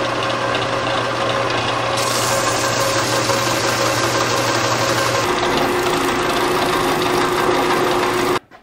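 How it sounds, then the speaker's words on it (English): A bench sander grinds steel washers down, a loud continuous droning whir that runs steadily for several seconds, shifts in tone partway through, then cuts off abruptly at the end. "I'm gonna take one washer off from here and here and put them on the bench sander and sand them down."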